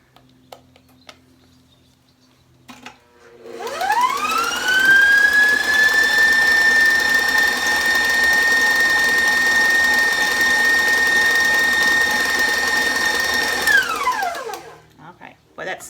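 An electric mixer whirs into high speed and runs steadily for about ten seconds while blending no-flour monster cookie bar batter with peanut butter and vanilla, a loud sustained whine that starts and stops cleanly.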